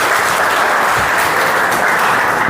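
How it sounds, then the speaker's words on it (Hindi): Audience at a career-counselling talk applauding steadily, a dense unbroken patter of many hands clapping at close range with no voices over it. "वेरी गुड, ताली बजा दीजिए।"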